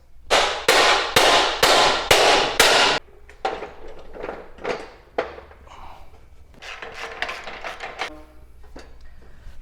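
A hammer pounds a steel chassis cross member to bend it in a workshop, five loud, evenly spaced ringing blows followed by a scatter of lighter, irregular taps and clatter.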